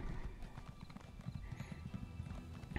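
A horse's hooves clip-clop at a brisk, steady pace through a video game world, soft and fairly close, with no voices over them.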